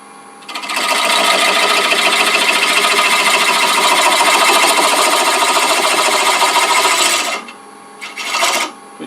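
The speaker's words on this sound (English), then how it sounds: "this is side grain, so I'm going to use this tiny little bowl gouge" Small bowl gouge cutting side-grain cherry wood on a lathe for a large turned box, a loud continuous rasping, buzzing cut lasting about seven seconds, then two short follow-up touches after the tool lifts away.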